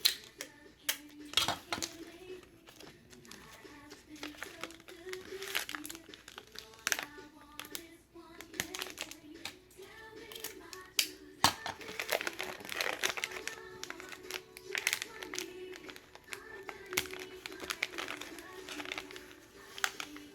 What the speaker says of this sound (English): Is to wrap the candy Hershey's bar with the red paper, and you want to go ahead and get this super clear tape.